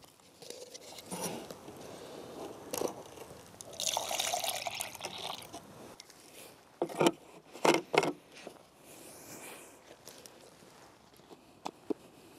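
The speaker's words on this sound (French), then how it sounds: "versez du liquide de conservation dans le premier pot jusqu'à un tiers de sa hauteur" Preservation liquid poured into the first pot of a Barber pitfall trap set in the ground outdoors, a fluid splashing and dripping pour that swells in the middle, then scattered drips and small knocks, close and fairly quiet.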